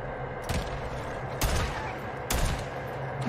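Three loud gunshot bursts at roughly one-second intervals during Days Gone gameplay, each a sharp broadband crack with a brief tail, over a steady low game ambience.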